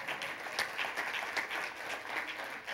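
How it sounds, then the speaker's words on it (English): Church congregation clapping in a steady, dense wash during a sermon, many hands together at moderate loudness, sustained without talk throughout. "give the Lord a clap offering"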